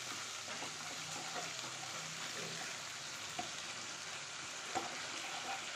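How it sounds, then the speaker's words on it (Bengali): Blended onion paste fries in hot oil in a pan for a rui fish curry, giving a soft, steady sizzle with faint crackle. An occasional light tap of a stirring spoon sounds against the pan. "আগে পেঁয়াজটা লাল লাল করে ভেজে নেবো।"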